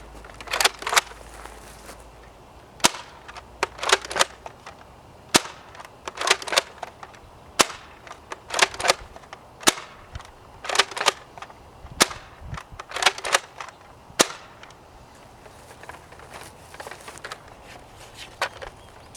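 A modified Nerf Longstrike CS-6 blaster fires a string of sharp, clacking shots, some in quick pairs and some spaced a second or two apart, close and distinct against a quiet room with no one talking.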